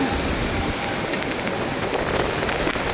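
Steady, loud rushing noise of Typhoon Bavi's strong wind and driving rain on Guam, constant with no pauses, some faint voices buried beneath.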